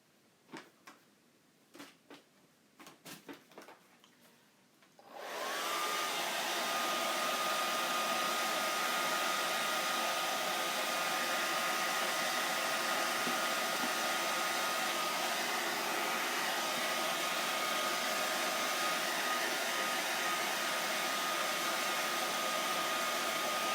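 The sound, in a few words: blow dryer drying a wet onesie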